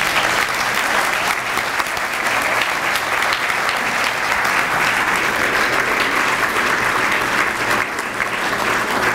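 An audience applauds steadily and loudly for about nine seconds, welcoming Larry Schiller to the stage, a dense wash of clapping with no break.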